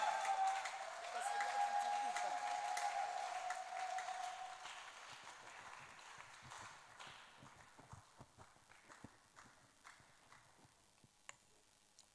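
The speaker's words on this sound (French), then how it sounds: "Acclame très fort." A church congregation claps and cheers loudly at first, then the applause thins into scattered claps and fades over several seconds.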